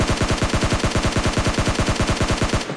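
A rapid automatic burst of gunfire from the PUBG Mobile video game, evenly spaced loud shots rattling close by without pause before cutting off.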